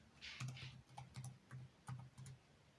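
Keys tapped on a computer keyboard, faint and close, in a few short irregular bursts of clicks with brief pauses between them and no talking.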